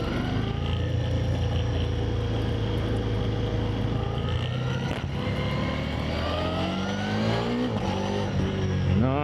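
2026 Ducati XDiavel V4 motorcycle accelerating hard in sport mode, a loud, close engine roar that holds steady, then climbs sharply in pitch toward the end.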